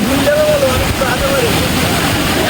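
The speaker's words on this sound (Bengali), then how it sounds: "রাস্তা দিয়ে প্রচুর জোরে জল যাচ্ছে" Floodwater from a broken Raimangal river embankment rushes along a village road in a loud, steady roar, with people talking nearby.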